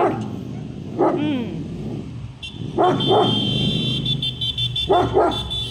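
A black German Shepherd barks in short bursts of two or three deep woofs, separated by pauses, close and loud, with a faint high tone running in the background.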